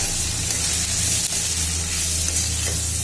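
Spices frying in oil for shukto, a steady, loud, close sizzle with a constant crackling hiss and a low hum underneath.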